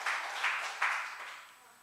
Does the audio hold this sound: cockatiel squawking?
no